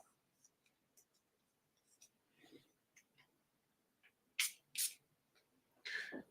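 Several short, hissing bursts of a perfume spray, quiet and close, with faint rustling and small clicks between them.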